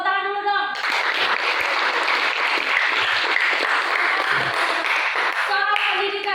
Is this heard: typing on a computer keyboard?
no